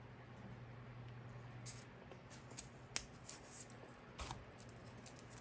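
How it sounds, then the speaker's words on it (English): Scissors snipping through a plastic vase filler, a few quiet, sparse cuts and crisp clicks over a low steady hum, with no talking. "I just took one of these vase fillers and cut it in half"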